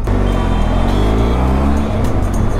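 City road traffic at a red light: nearby engines hum with low, steady tones and one vehicle gives a brief rev near the end, with no talking.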